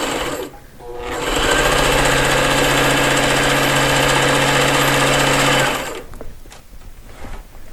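A sewing machine runs steadily for about five seconds while stitching fabric pieces for a dimensional lotus-petal project, loud and close with an even mechanical whir, then stops into quiet room noise.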